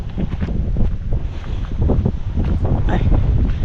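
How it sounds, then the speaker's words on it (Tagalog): Strong wind buffets the microphone in loud, gusty rumbles at a calamansi farm, with rustling around it and no clear speech. "lakas ng hangin"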